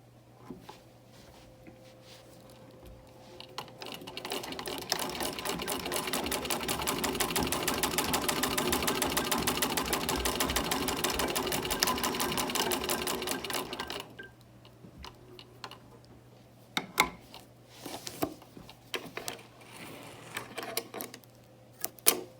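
A Singer 15-88 sewing machine, set for thicker fabric, stitching two layers of quilter's cotton: a fast, even mechanical clatter builds and runs for about ten seconds, then stops, leaving scattered clicks and handling noises.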